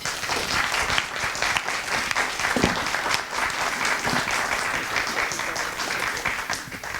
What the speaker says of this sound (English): a round of applause to Rob